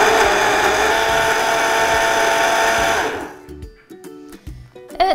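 A countertop blender whirs loudly and steadily while blending a spinach smoothie, then cuts off abruptly partway through, leaving quiet clinks and handling noises.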